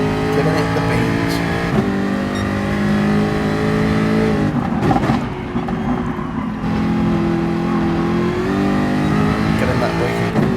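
A race car in Gran Turismo Sport held at full throttle on a start-finish straight, its engine note climbing steadily through the gears with brief shifts, loud and continuous throughout.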